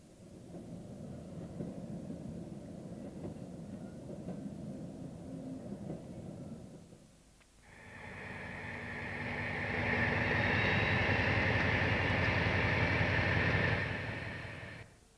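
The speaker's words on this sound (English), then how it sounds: "The loco runs around its train, but there is no eastbound exit from the sidings." Diesel locomotive running around its train of coal wagons in colliery sidings on the line to High Marnham, with engine rumble building, a short lull, then a louder, closer passing drone with a high whine before easing off.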